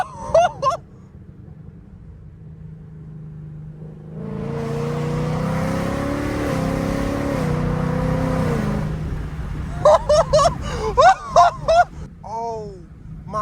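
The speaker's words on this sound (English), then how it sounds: "Do y'all hear this car right now?" A Ford Mustang S550 with an aftermarket exhaust revs hard and close, a loud, rising engine roar held for several seconds and then fading, with excited voices and laughter before and after the rev.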